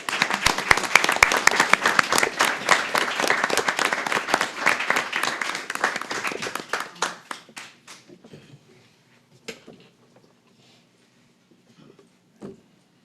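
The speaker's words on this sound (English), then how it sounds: "could we all have a round of applause for the Legion?" A commission meeting audience applauds, a dense, steady round of clapping that thins after several seconds into a few scattered claps and then quiet.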